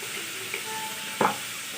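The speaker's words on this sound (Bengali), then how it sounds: "দেখো ভাজা ভাজা হয়ে গেছে আমার এটা সবজিটা।" Vegetables frying in a pan with garlic and ginger paste, a steady close sizzle with a brief louder clatter of stirring partway through.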